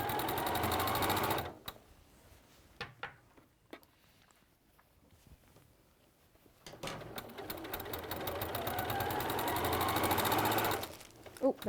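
A sewing machine with a walking foot stitches along the doubled-over edge of a quilt in a fast, steady whirring run, stops for a few seconds of quiet handling, then resumes, with talk heard over parts of it.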